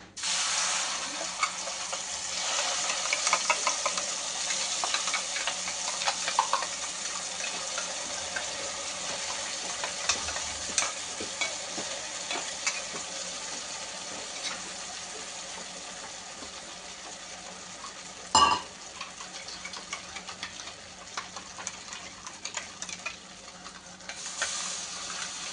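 Ground spice paste sizzles and is stirred in a hot pan, a steady crackling hiss that runs throughout with occasional scrapes and one sharp clack, no talking.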